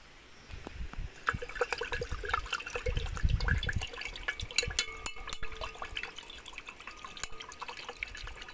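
Liquid containing silver, mixed with salt water, is stirred in a container, giving continuous sloshing with irregular clinks and drips, close and moderately loud, with no talking.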